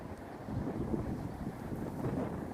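Breezy outdoor wind buffets the microphone in a steady low rumble, fairly faint and without talk.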